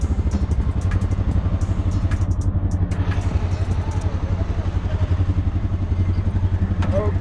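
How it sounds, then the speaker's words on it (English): A tuk-tuk, a three-wheeled motorcycle, runs on a busy street on Moi Avenue in Mombasa. Its engine gives a steady, close, low rumbling drone throughout, with faint background voices and street clatter. "tuk-tuk is the motorcycle with 3 tires"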